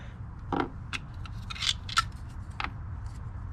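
Teflon tape being wrapped around air compressor fittings under a truck hood makes a few short, close crinkly rasps and squeaky stretching sounds, separated by brief pauses over a low background hum.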